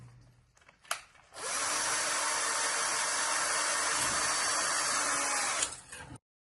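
A surgical drill with a 3.7 mm bit bores through bone during screw fixation surgery, a brief tap then a steady, loud high whine running for about four seconds alone before cutting off.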